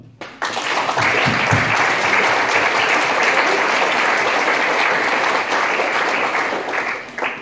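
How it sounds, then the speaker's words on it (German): An audience at a short film festival bursts into loud applause that starts abruptly, holds as a dense, sustained roar of many hands and tapers slightly at the end. "Applaus!"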